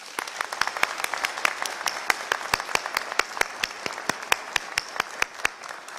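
An audience at a university commencement ceremony in Georgia applauds the country's president with sharp, evenly spaced hand claps. The claps are distinct, moderately loud and fairly sparse, and keep a steady pace throughout.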